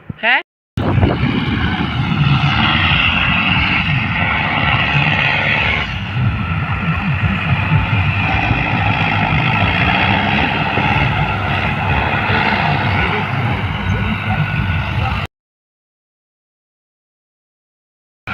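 A loud tractor diesel engine runs steadily up close, droning and rattling continuously before cutting off abruptly near the end.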